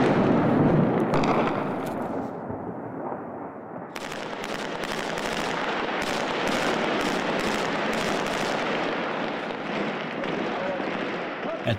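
Airstrikes pounding Mosul at night, a sustained barrage of rumbling blasts and cracking bursts that rolls on continuously, loud and dense across the whole stretch, with voices faintly mixed in.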